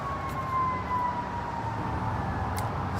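An emergency vehicle siren wails faintly in the distance outdoors, a thin sliding tone drifting over a low background rumble of traffic.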